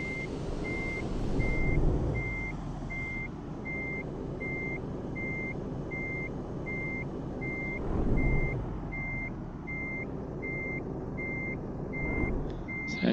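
Truck reversing beeps from Euro Truck Simulator 2: a steady run of short, evenly spaced electronic beeps at a moderate level over a low engine rumble, with slight swells of engine noise as the truck backs up.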